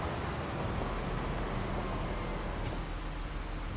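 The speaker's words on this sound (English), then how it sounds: "look at the rain hit the roof" Steady rain drumming on a roof in Farming Simulator 25, a continuous even hiss of dense drops with no breaks, heard alone at a moderate level.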